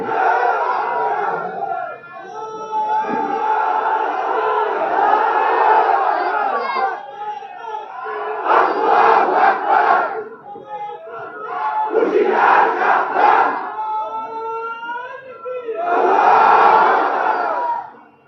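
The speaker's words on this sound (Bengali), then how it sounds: "এটা নারায়ে তাকবীর আল্লাহু আকবার বললেন" A large crowd at an outdoor religious gathering chants Naraye Takbir, Allahu Akbar. Loud, massed voices rise in repeated surging waves, with a single caller's voice between the responses.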